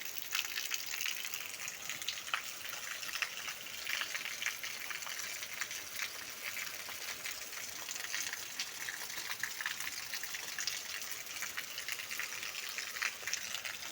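Heavy rain pours steadily onto a freshly rotavated farm field with standing water, a dense continuous hiss holding at one level throughout with no voices.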